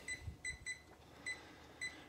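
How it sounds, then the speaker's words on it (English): A kitchen timer for oven-cooked brisket beeps in short, bright, high-pitched chirps, several quick beeps spaced unevenly over a couple of seconds against a quiet room. "Let's do a timer."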